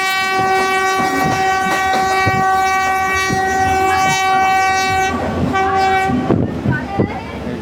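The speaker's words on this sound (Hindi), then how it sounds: "ZCU का हॉर्न भी काफ़ी" A loud, sustained ZCU diesel locomotive horn on the Pakistani Pak Business Express blares close by over rhythmic clickety-clack of wheels, cutting off near the end as the rumble continues.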